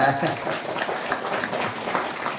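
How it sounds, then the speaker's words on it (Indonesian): Crowd applause at a Maulid Nabi celebration in an Islamic school, a dense steady patter of many hands clapping, with some voices mixed in. "Tepuk tangan buat teman kita."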